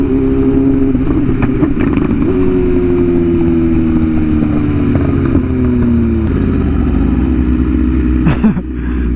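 BMW S1000RR sportbike with an aftermarket exhaust riding down a road, its engine howling in a sustained high rev with pitch sliding through the gears, heard loud and close over wind noise.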